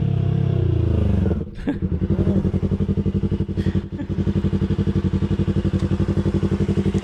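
A motorcycle engine nearby on a Rio de Janeiro street, loud at first, then dropping to a rhythmic, pulsing idle chug with some clatter.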